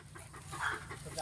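A dog on a lot in the Philippines pants and whimpers faintly, low and continuous beneath steady background noise, with no clear barks.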